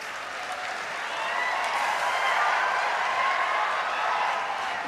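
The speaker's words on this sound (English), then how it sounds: "Big round of applause to all the students." Applause from an audience at a university convocation for graduating students, a diffuse, steady wash of clapping that swells slightly midway and stays moderately distant.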